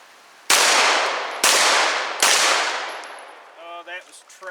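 Three loud, sharp Glock 34 Gen5 pistol shots fired at steel targets in a timed shooting drill, spaced under a second apart, each with a ringing decay, followed by faint metallic clangs from the hit steel.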